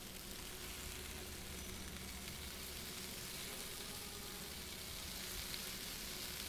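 Food frying in a pan in the cooking game Cooking Simulator, a faint, steady sizzling hiss that holds evenly throughout with no voices.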